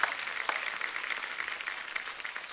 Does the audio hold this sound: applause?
yes